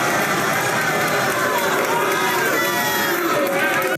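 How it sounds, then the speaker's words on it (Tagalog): Rap battle audience roaring wildly, a dense, loud wash of cheering and shouting voices sustained throughout before cutting off abruptly. "Grabe, nagwawala yung crowd eh."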